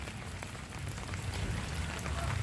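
Monsoon rain falls at a chicken coop, a steady dense patter on surfaces with no voices, close and fairly soft throughout.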